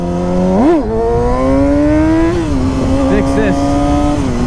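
A 2014 Yamaha R6 sport bike's engine whines steadily while riding, its harmonic drone rising sharply near the start, then settling and shifting pitch slightly as the throttle changes, loud and close throughout.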